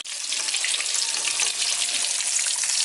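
Halloumi fries deep-frying in hot oil, a loud, dense, steady sizzle and crackle that runs unbroken from start to finish with no voices.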